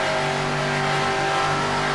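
A race car engine in NASCAR Racing 2003 drones loud and steady at high revs, a constant buzzing roar with no pauses, heard from close up.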